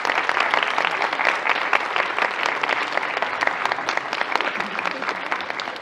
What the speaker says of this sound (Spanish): le pido un aplauso a la gente para que nos ayude a despedir a los compañeros